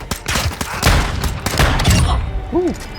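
Loud, close gunfire from Call of Duty MWII Warzone 2.0, several sharp shots and bursts in quick succession with a brief tonal game sound near the end.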